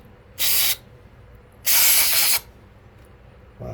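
Brake cleaner blasts from an aerosol can into the carburetor of an RC nitro car in two sharp, loud hissing bursts, the second longer, with a third starting at the end.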